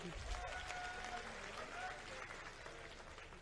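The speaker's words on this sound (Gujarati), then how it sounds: "તો આપણે તાળીઓથી જોરદાર વધાવીએ" An audience at a political gathering breaks into applause: a steady wash of clapping from a crowd, fairly faint and distant, with voices mixed in.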